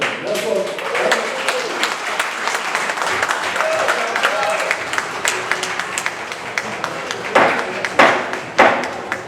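An audience at a Masonic lodge public installation in Calasiao gives steady applause for a worshipful brother, with sharper louder claps near the end and voices mixed in.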